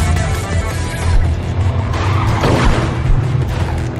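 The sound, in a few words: trucks driving and skidding in the video game ClusterTruck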